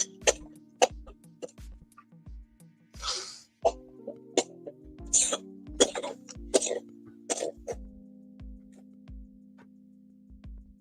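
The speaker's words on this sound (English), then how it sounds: "Now I'm gonna cough." A person coughs after smoking weed, with a string of rough coughs and some throat clearing spread over several seconds. A steady faint ticking runs behind them.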